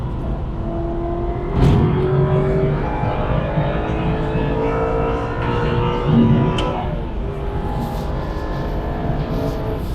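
Aston Martin V8 Vantage engine driving on a race track, a steady near rumble with gear-change swells and shifting engine tones throughout, with faint talk over it.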